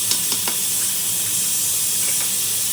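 Whole spices such as black cardamom and black peppercorns hissing and sizzling in hot oil for a black chana curry, a steady bright frying hiss with a few soft stirring clicks near the start.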